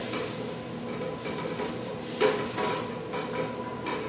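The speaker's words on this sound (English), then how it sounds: "I'm going to toss in my onions. And I'm just going to saute them until they're clear." Onions sautéing in a big pot: a steady sizzle with occasional scraping and light clinks of a utensil against the pot.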